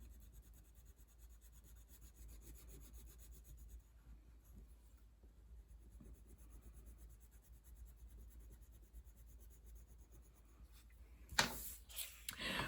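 Crayons scribble across construction paper in quick crisscross strokes, a faint, steady scratching rasp that runs alone and unbroken for most of the stretch before a few louder rustles near the end.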